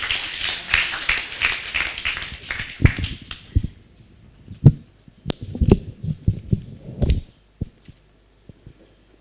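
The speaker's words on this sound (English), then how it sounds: "May you give him a thunderous clap as he comes." Audience applause at a pediatric wheelchair service launch at Mbarara Regional Referral Hospital: dense clapping for the first few seconds, thinning into scattered, isolated claps before fading out.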